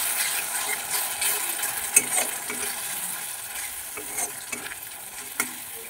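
Pabda fish with ginger cooking in mustard masala over a medium flame, stirred with a steady hiss of frying and occasional sharp clicks of the spoon against the pan, no voices.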